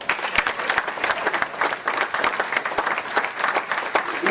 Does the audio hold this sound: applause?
yes